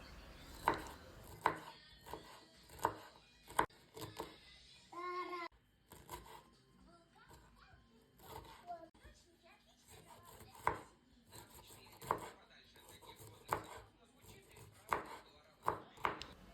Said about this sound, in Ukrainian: Далі я беру брокколі 200 г і також нарізаю дрібненько.